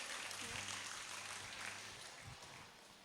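Audience applause at a school health seminar, a steady wash of clapping filling the clip and slowly fading, with faint voices underneath.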